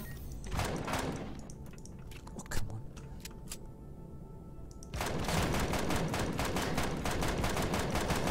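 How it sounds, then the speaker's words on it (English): Shotgun blasts and gunfire in the space survival video game Empyrion, a burst of sharp cracks followed by a steadier stretch of rapid, dense shots later on, with a voice murmuring quietly underneath. "Just one shot to the face. Shotgun all the way"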